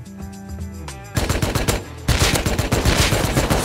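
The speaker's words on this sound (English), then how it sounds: "I need you to just shoot them." Automatic rifle fire and gunshots in the online survival game Rust, with bursts of rapid shots that grow denser and louder into heavy sustained firing, close and without talking.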